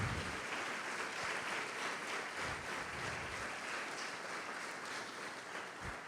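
Church congregation at an end-times prophecy conference applauding steadily and fairly quietly throughout, a soft continuous patter of many hands with no talk over it.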